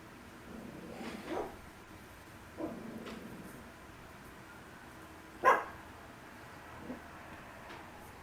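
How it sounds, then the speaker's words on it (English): A dog barks a few times in a played-back old home recording. The barks are faint and spaced apart over a low background hiss. "Here's another doggy."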